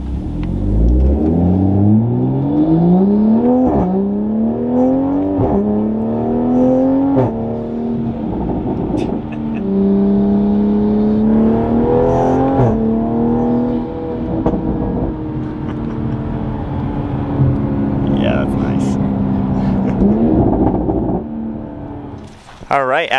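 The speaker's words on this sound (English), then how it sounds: "That combination of the turbo just going crazy and then that exhaust." A Toyota Supra MK5 fitted with an Armaspeed carbon fiber intake, turbo and exhaust accelerates hard through repeated upshifts, its engine note climbing in rising sweeps with turbo whoosh, loud and close, easing off near the end.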